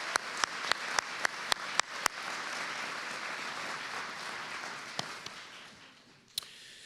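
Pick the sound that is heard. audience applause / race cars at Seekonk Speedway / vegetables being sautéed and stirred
audience applause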